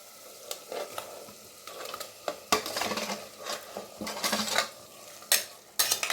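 Prawns are stirred into softened cooked onion and tomato in a pot for prawn biryani: a spoon scrapes and clinks against the metal in irregular bursts over a soft background sizzle.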